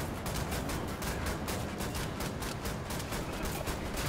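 Rapid gunfire in Wolfenstein: The New Order, a dense stream of fast repeated shots that runs without pause, loud and close, with no speech.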